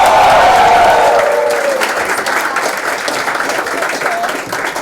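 A crowd at an annual cultural fest cheers and applauds loudly for singers Sukriti and Prakriti Kakar, a dense wash of clapping with a rising whoop early on that slowly thins and settles into steady applause.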